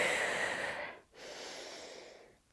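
Close, airy breaths during a yoga exercise: a long exhale, a brief pause, then a steady drawn inhale, loud and near with no talking.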